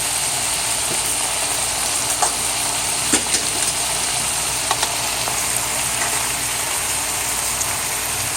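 Chayote and carrots fry in a pot with a steady, dense sizzle, with a few faint clicks of a utensil scattered throughout.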